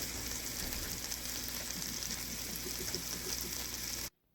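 Morel mushrooms frying in butter, a steady close sizzle with faint crackling pops that runs evenly for about four seconds and then cuts off abruptly.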